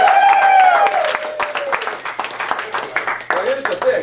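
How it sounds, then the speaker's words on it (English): An improv theater audience breaks into applause, dense clapping and crowd noise mixing with a voice that opens loud and is then joined by rapid claps that keep going through the rest of the moment. "Give him a big applause."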